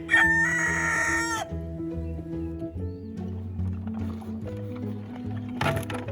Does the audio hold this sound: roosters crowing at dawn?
yes